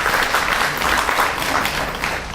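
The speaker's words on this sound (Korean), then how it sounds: "박수 치셔도 됩니다 했는데 박수 치셨는데 이렇게 치셔서 고맙고요" An audience at a Korean election candidate debate applauding, a dense steady clapping from many hands that stays loud throughout, with no talk over it.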